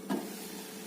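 Bajakah root simmering in a pot of boiling water gives a faint, steady bubbling hiss, with a brief slightly louder burst near the start.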